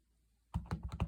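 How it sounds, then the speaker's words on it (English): Reversible leaf stamp pressed onto paper, heard as about five quick, close taps in a row after a moment of near silence. "So I'm going to just stamp it"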